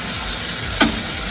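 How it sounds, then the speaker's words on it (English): Gnocchi frying in a pan give a steady, close sizzle throughout, with a brief louder clatter or stir partway through. "And then I'm going to continue frying them up."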